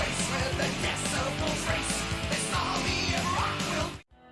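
An opening scream on a 1988 heavy metal track rings out loud over pounding drums and distorted guitars. The dense wall of sound cuts off sharply at the end.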